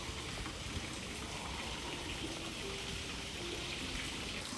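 Water pours steadily over the Mizukake Fudomyo statue at Meguro Fudoson temple in Tokyo, a continuous close splashing and trickling without a break.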